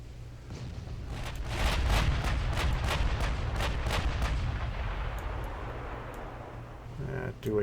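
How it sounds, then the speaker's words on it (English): Naval guns on the stern turrets of a dreadnought in Ultimate Admiral Dreadnoughts fire heavy, rumbling salvos, with rolling booms and echoing blasts that swell and slowly fade. Someone talks over them. "So we're not able to get all the guns on fire."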